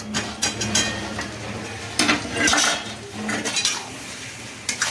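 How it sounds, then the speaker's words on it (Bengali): Potatoes tipped into a cooking pot with turmeric, clattering metal scrapes and clinks from a spoon against the pot, close and irregular, with louder bursts in the middle. "এবার আমি আলুগুলো অ্যাড করছি"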